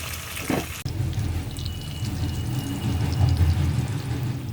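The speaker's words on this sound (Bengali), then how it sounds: "লো হিটে ভাজতেছি যেন মসমসে হয়" Koi fish fry in oil on low heat for a crisp finish, a steady close sizzle and bubbling hiss running throughout after a brief clatter at the start, no voices.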